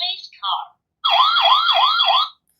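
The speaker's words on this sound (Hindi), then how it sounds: "तो ये एम्बुलेंस का साउंड है" A toy ambulance siren sounds a rising-and-falling electronic wail for just over a second, following brief high-pitched chirps at the start, with silence afterward.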